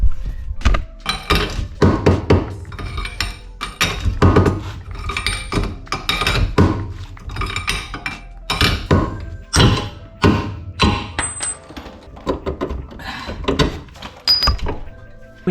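Hammer blows striking a rusted bolt on a Mazda Miata project car, a long series of loud, sharp metallic thunks and clanks in uneven rhythm, close up with no talking.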